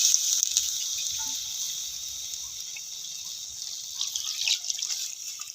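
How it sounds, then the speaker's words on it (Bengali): Water goes into a hot cooking pan of jackfruit and prawn curry, raising a steady, bright sizzling hiss that fades slightly and then flares again, moderately faint, with no talk. "মধ্যে জল দিয়ে দেবো।"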